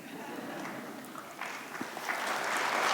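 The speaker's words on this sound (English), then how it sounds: "No need to applaud every answer." An audience claps at an onstage conversation with two guests, a dense, moderately distant patter that swells toward the end.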